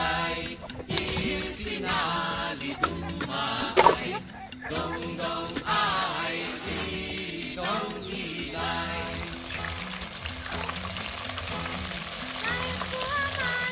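Crispy chicken feet deep fry in hot oil with a loud, constant crackling sizzle that fills the whole stretch. Scattered bursts of louder spitting break through, and sounds from the cook's hands and utensils rise over the oil now and then.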